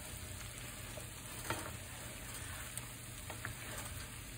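Oil sizzles steadily in a pan of frying scalloped potatoes, about half a cup of oil, with a few soft clicks and scrapes of stirring, quiet and close.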